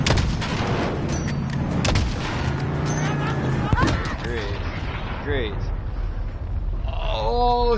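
Heavy gunfire and booming blasts from the Modern Warfare campaign aimed at an approaching suicide truck, loud and dense under shouted voices, with battlefield rumble and trailing electronic effects.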